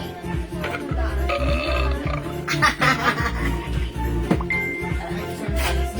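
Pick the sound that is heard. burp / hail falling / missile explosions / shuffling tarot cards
burp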